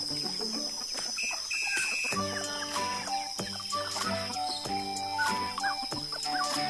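Chickens and chicks clucking and peeping at a small poultry-rearing spot, many overlapping calls close by, with tonal chirps and a steady high hum running throughout.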